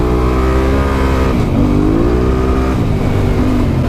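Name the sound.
Holden Brumby ute revving and doing a skid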